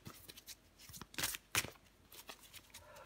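Tarot cards are shuffled and one is drawn from the deck, soft papery riffles and flicks close and quiet, with a few sharper slides in the middle.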